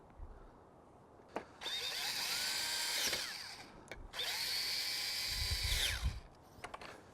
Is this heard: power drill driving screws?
yes